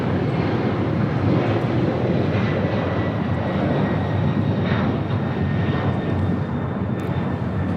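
A Delta Boeing 767-300ER airliner taking off at LAX, a loud, broad jet engine roar that holds steady for several seconds, heard from nearby with no talk over it.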